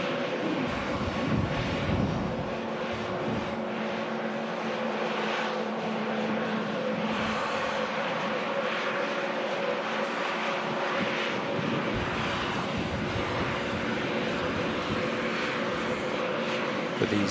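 Airbus A321neo airliner at Manchester Airport, a steady broad jet engine roar heard from a distance with wind buffeting throughout.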